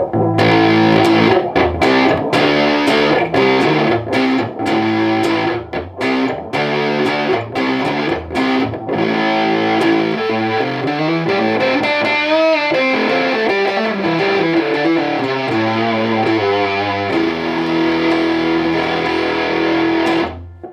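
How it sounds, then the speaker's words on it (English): An electric guitar runs through a VvCo Afterlife analog pedal on its Modern Distortion setting, loud and saturated, opening with sharp chugging stabs before sustained chords and ringing notes, with no talking. "Now we're going to move on to Modern Distortion."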